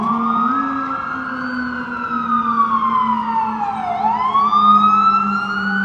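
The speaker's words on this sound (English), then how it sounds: "It would not be New York without sirens" Emergency vehicle sirens wail through the streets of Lower Manhattan in New York City, a loud continuous siren sweeping up and down in pitch over steady traffic rumble, with no talking.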